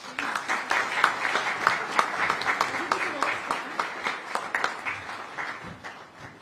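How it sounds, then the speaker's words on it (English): Audience applause at an Indo-French chamber business event in Mumbai, a moderate crowd clapping with distinct individual claps standing out, fairly faint and gradually tapering off toward the end, with some murmured talk underneath. "Can we have a round of applause, please?"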